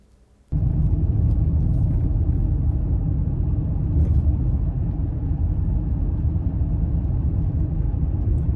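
A car starts moving after a brief quiet moment, then a steady low road and engine rumble fills the cabin, with only slight shifts in level and no talking.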